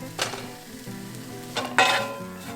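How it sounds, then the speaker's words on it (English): Tofu, garlic and onions sauté in a pan, giving a steady sizzle with a few louder bursts of stirring and scraping, close by, with no talking. "Saute the garlic, the onions, and the tofu for a little while"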